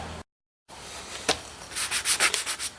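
A sloyd carving knife is sanded by hand: a brief gap of silence, one rough scrape, then a quick run of about eight rhythmic back-and-forth abrasive strokes, close and crisp.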